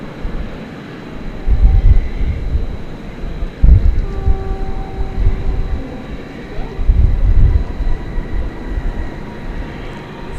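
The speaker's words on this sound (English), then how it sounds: "Flight 3212 coming in from Los Angeles, Airbus A321neo" Frontier Airbus A321neo arriving at DFW Airport at night, a low steady jet rumble that swells and fades in broad surges, heard from a distance with faint voices now and then.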